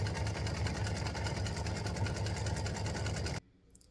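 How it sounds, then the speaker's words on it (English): Close, steady mechanical whirring and rapid rhythmic needle chatter from an embroidery sewing machine stitching a satin stitch, running continuously and then stopping abruptly near the end. "color stop number 5 is going to stitch a satin stitch across here"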